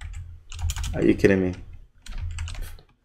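Fingers tap quickly on a computer keyboard while writing code, a close, busy patter in two bursts with a short pause between, with a frustrated voice speaking over the first burst.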